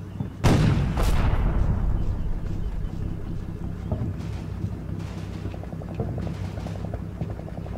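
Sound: Vickers machine guns firing in Combat Mission video game

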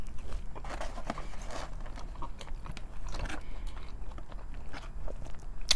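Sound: eating Raising Cane's fries with ranch

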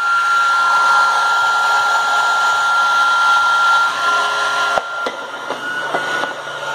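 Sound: hover soccer ball fan sucking in and blowing out air

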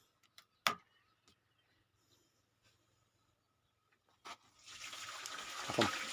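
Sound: water flowing from a submersible pump pipe

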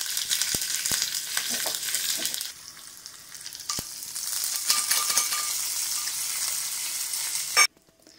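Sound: mustard seeds, urad dal, cumin and curry leaves sizzling in oil

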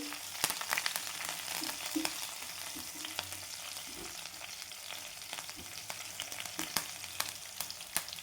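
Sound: garlic, curry leaves and green chilies frying in oil

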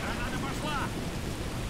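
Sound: wind and rain in Call of Duty: Modern Warfare 2 video game

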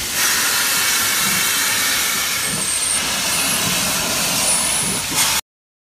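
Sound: steam locomotive

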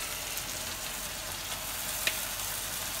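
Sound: shrimp being added to a pan, sizzling

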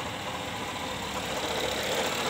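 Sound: Honda Jazz GK engine running after flood electrical repair

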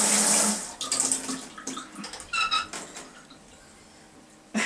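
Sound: apartment shower running water

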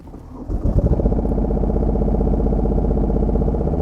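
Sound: mini excavator engine starting and running

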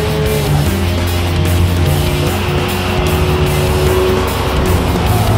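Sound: racing car in video game Tokyo Xtreme Racer 3

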